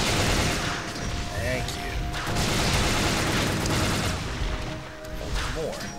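Gunfire and cannon-like blasts from the Onimusha 2 video game, a dense run of bursts and booms with game effects, while someone talks over it.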